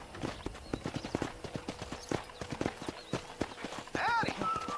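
Horse hooves clip-clop at a steady walk around a ranch in Red Dead Redemption, close and rhythmic, with a brief whinny and a voice speaking over the hoofbeats.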